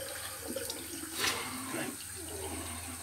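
Tap water running into a sink for a cold rinse during a double-edge shave with a Parker 22R razor, a steady rushing hiss that swells briefly in the middle, close by and without talk.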